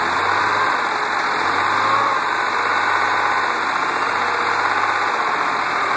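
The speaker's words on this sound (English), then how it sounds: "the engine wants to conk out when you do this, so you have to hold down the throttle a little bit." The V6 engine of a Mazda MX6 idles with the throttle held slightly open, giving a close, loud, even hum that never lets up.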